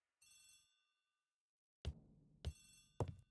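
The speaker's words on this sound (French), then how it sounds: "The telephone in the hall is ringing." A telephone rings in the hall of a house in The ABC Murders video game: a short electronic trill, then three heavy thuds spaced about half a second apart, with no talking.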